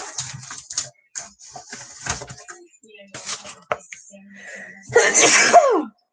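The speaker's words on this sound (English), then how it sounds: "And I'm sneezing tonight." A single sharp sneeze bursts out near the end, following a stretch of quiet clicks and small knocks.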